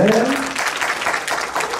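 A live audience at a comedian's motivational talk breaks into brief applause, a dense burst of clapping. A voice talks over the start.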